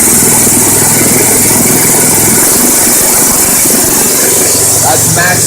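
Small engine driving a 12-volt generator that charges a large battery bank, running loud and steady at maximum idle throughout with a constant buzzing drone.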